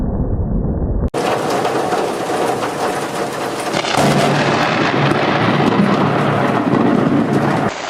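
A very close lightning strike lands with a sudden sharp crack, followed by a loud, sustained rolling rumble of thunder over the background noise of a rainstorm.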